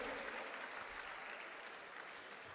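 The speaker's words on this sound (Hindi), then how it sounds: "तो एक बार जोरदार तालियां हो जाएं आम आदमी पार्टी के सभी कार्यकर्ताओं के लिए" Loud, steady applause from a crowd of Aam Aadmi Party workers at a political meeting, continuous clapping sustained throughout with no pauses.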